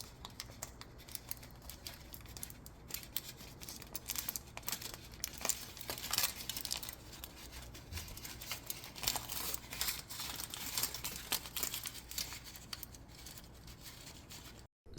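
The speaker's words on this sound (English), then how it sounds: "Okay, so we're peeling the bioplastic off." A dried, textured bioplastic sheet containing eggshell pieces is peeled off a surface, giving steady, close crinkling and crackling with small tearing snaps throughout.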